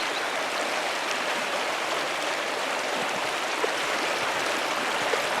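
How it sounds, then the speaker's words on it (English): A waterfall fed by mountain snow melt near an abbey in the video game Pentiment rushes in a steady, even hiss of flowing water, with nothing else over it. "The waterfall must flow down from the snow melt in the mountains above the abbey."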